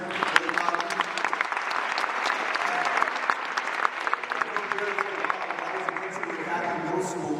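Audience clapping for a student speaker at a school talk fills the space, a steady crowd applause with a voice speaking over it toward the end.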